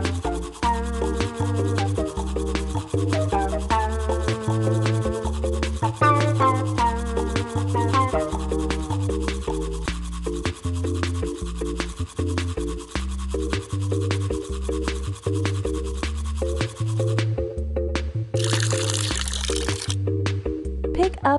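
A cartoon toothbrush scrubs teeth in a children's bath-time game, repeated rubbing strokes over bouncy background music, with a short watery splash near the end.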